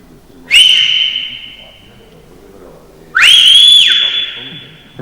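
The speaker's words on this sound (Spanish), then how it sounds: "Es un silbido grandísimo" Two loud whistled-language calls from Gran Canaria ring out, each a sustained high, clear whistle that rises and bends, separated by a pause, with faint echo after each.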